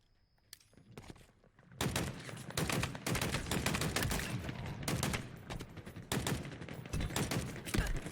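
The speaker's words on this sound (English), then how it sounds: "Machine guns suit you," Machine gun fire in the video game Halo Infinite rattles in long bursts, loud and rapid, broken by short pauses between strings of shots.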